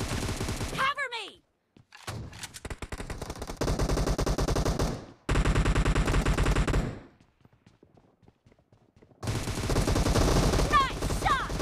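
Rapid automatic gunfire crackles through a PUBG team deathmatch on mobile, dense loud bursts broken by sudden short silences, with whooshing effects near the start and end.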